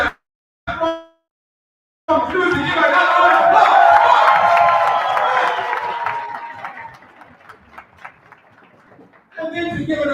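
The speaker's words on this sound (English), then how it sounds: "Mhluzi, give another round of applause." A crowd applauds and cheers loudly for several seconds, the clapping gradually thinning out and fading toward the end.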